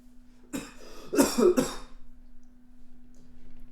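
Several harsh coughs from one person in a short burst, sharp and close, trailing off into quiet with a steady electrical hum beneath.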